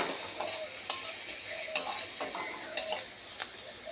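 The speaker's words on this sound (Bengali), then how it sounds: "শাকটা দিয়ে একটু ভাজা ভাজা করে অল্প পরিমাণে জল দিয়ে দেবো।" Gima greens and potato being stir-fried in a pan, with a steady sizzle under regular scrapes and taps of a spatula on the metal, close and fairly quiet.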